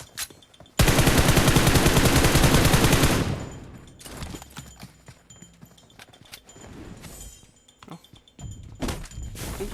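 A burst of automatic gunfire from PUBG Mobile rattles out rapidly and loudly for about two and a half seconds, followed by scattered softer game thuds and impacts.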